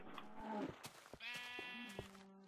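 A sheep in the Minecraft video game bleats twice in quick succession, a nasal wavering call over clicks and other game sounds, with no talking.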